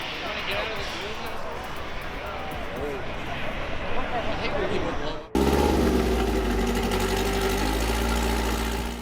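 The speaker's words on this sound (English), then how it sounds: "This bug, rocking a tuned Type 1 engine, just hit the dyno" A tuned VW Beetle Type 1 air-cooled engine runs on a dyno, first a rough, busy mechanical drone under a talking voice, then a sudden jump to a louder, steadier roar that holds until the end.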